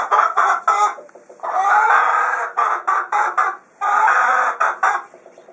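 A hen clucking and squawking in quick, loud bursts close by, with a few longer drawn-out calls between the choppy clucks, no talk over it.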